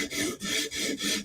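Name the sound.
Hogue Deka knife tip scrubbed on sharpening stone to raise burr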